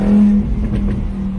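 A car engine gives a short, loud rev up close, a steady droning note that quickly settles into a rougher rumble.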